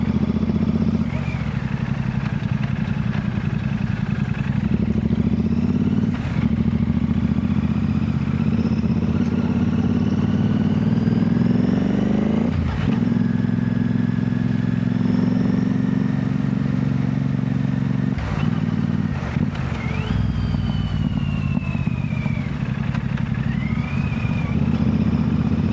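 A motorcycle on a group ride from Gurgaon to Faridabad holds a loud, steady engine drone for the whole stretch, with a few brief clattering transients and wind rush over it.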